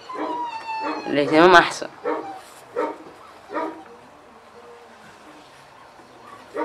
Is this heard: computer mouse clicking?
no